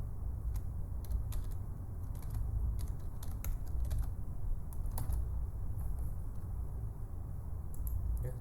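Brisk typing on a computer keyboard, quick irregular key clicks over a low background hum, with no talking.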